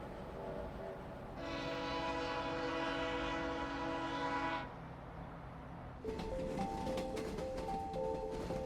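A circus train travelling on rails in 1885, its horn sounding a long, loud steady blast over the rumble of the moving cars, followed by further rail noise and shorter, higher whistle tones.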